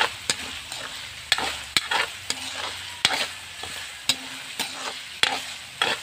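Ground pork fries in its own rendered oil for spaghetti sauce, making a close sizzle with a regular rhythm of sharp spatula scrapes and taps against the pan, about a dozen strokes, with no one speaking.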